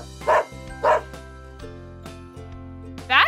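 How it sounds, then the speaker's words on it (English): A dog barks twice in quick succession, then once more after a pause, loud and close over a low electronic hum. "You're right, that's a dog."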